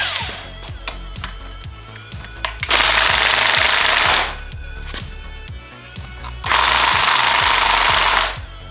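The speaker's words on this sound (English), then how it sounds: "I'm gonna use the electric impact that I've got and see if that will pull this crank pulley off." Electric impact wrench hammering at an engine crank pulley on a TDI Trooper, two long loud bursts of rapid rattling impacts, each about one and a half seconds, set between lower clattering and a steady mechanical rumble.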